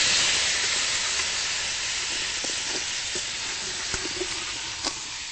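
Vada fry in hot oil with garlic added, a steady loud hiss and sizzle with faint pops and crackles throughout, no voices.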